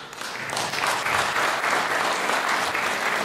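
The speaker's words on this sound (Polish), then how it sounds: "te oklaski po Pańskim wystąpieniu" Steady audience applause at an anniversary academic gathering after a speech, dense clapping from a full room, even and sustained throughout, no voices.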